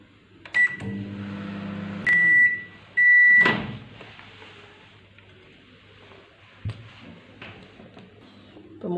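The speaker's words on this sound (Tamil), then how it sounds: "இப்போ நம்ம மைக்ரோவேவ் மோட்ல வைக்க போறோம்." A microwave oven heats grated coconut for burfi, giving a few loud beeps and clicks, a door thud and a low hum running throughout the quiet kitchen.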